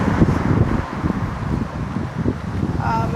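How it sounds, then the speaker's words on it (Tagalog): Steady blustery wind roars and buffets the microphone, with a rushing, rumbling texture and faint background sounds. "Lakas ng hangin dito."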